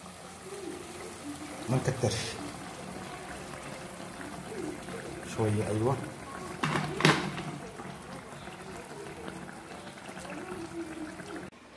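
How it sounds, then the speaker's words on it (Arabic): Hot water trickles and splashes in short pours into a pot while an Algerian chicken kebab dish cooks, a few brief bursts under a person talking nearby. "ماء سخون كذا،"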